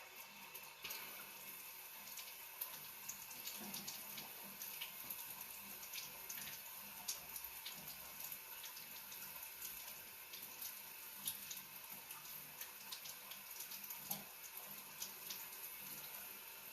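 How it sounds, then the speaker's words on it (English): Cold water from a tap running steadily into a sewer pipe during an inspection at a house, a continuous, fairly faint trickle and splash with no talk. "can you turn that cold water back on for me again?"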